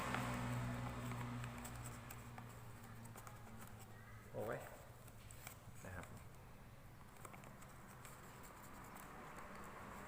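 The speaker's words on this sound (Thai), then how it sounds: "ฝนตกครับยุ่งหลายครับ" Steady rain falls outdoors during marian plum grafting work, a continuous broadband hiss with low hum and a few brief knocks, while someone speaks throughout.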